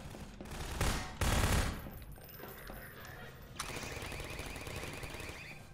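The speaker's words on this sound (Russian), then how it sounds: "Да сзади там штука по вам стреляет." Rapid bursts of turret gunfire in Garry's Mod, a dense rattling volley peaking early and then continuing as a quieter sustained stream of shots under game noise.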